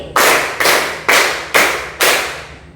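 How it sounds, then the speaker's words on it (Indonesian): A school class claps in unison to a counted rhythm, five loud, evenly spaced group claps, each ringing briefly in the classroom before the next. "tepuk 2, tepuk 3, tepuk 4 kali, tepuk 5 kali"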